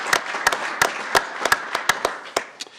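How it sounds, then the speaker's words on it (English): Sparse applause at a city council meeting: a handful of separate, sharp claps close to the microphone, spaced irregularly and fading toward the end. "Another round of applause for him."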